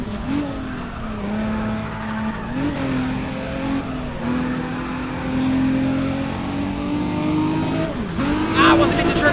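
Race car engine in the video game Need for Speed ProStreet with its nitrous boost running, a loud sustained drone that rises and dips with gear shifts, with tire squeal near the end and a voice talking over it.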